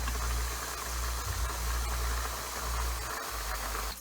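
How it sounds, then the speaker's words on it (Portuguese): A covered pot of plant ointment in petroleum jelly boiling, a continuous soft hiss and bubbling simmer with faint rattling, steady and close with no voices. "Então eu simplesmente deixo agora fervendo por 15 minutos"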